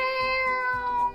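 A single drawn-out cat-like meow from Gary the snail in the SpongeBob SquarePants: Battle for Bikini Bottom video game, clear and tonal and lasting about a second, with no talking.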